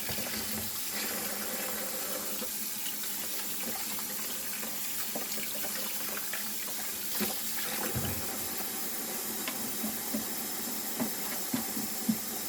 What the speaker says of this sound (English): I'll just rinse these off so they'll be ready to go